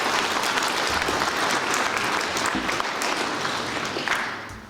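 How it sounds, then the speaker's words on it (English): A room of people at a Limerick event breaks into a sustained round of applause, dense even clapping at moderate level that gradually fades out toward the close. "Can we have a round of applause for dedication, please?"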